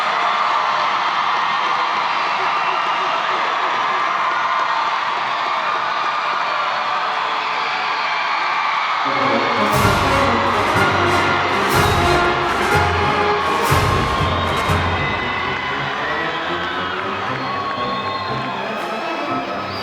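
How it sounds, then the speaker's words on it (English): A high school graduation crowd bursts into loud cheering, whoops and applause for the graduating class after a steady hall hum, sustaining a dense roar of many voices and clapping for about ten seconds. "let's give a big round of applause for the class of 2019 from Lincoln High School"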